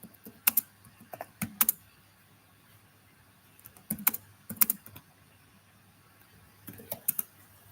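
Computer keyboard typing while searching Google: short bursts of quick, close keystrokes separated by brief pauses, with no talking.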